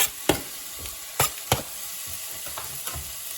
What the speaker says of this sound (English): But we can go straight in with these onions.